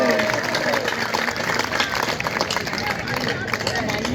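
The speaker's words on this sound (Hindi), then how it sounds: "एक बार जोरदार ताली बजा दो मोदी जी के लिए।" A rally crowd claps and cheers for Modi in a dense, sustained wash of applause that runs the whole time, with loud crowd babble mixed in.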